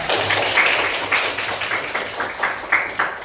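A class claps for a student in a school lesson. The applause is scattered and fairly close, with uneven individual claps standing out as it thins toward the end.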